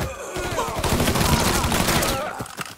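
Gunfire from the video game Mafia III: a dense, loud fusillade of rapid shots rolling on continuously for nearly three seconds, with no talk over it.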